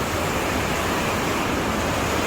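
Steady, dense rushing of water, like heavy leaking and pouring rain, continuous and loud throughout with no voices, as water leaks indoors during a super typhoon in Iloilo, Philippines.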